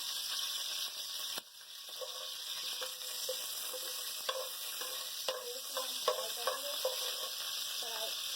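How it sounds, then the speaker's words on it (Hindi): Curry leaves fry in hot oil for masala bhindi, giving a steady close sizzle throughout with scattered crackles and pops, briefly dipping after a spoon stir early on. "ये 2 भिंडी जो हमारे पास कड़ी पत्ते थे ये हम फ्राई करेंगे इसमें"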